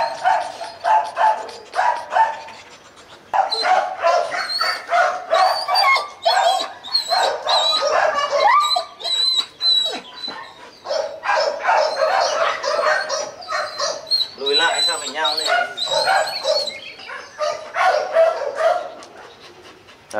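Vietnamese bobtail dogs barking almost continuously and loud nearby, with high yips and whimpering whines mixed in and only brief gaps between the bursts.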